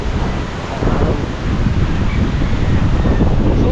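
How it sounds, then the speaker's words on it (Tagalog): Ocean waves churned up by Super Typhoon Inday rumble and wash continuously, loud and close, mixed with heavy wind buffeting the microphone. "Yan na alon."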